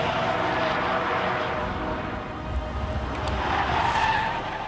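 Porsche Cayenne SUV driven hard on a race circuit, tires squealing and skidding over a continuous engine roar that swells slightly near the end, with no talk.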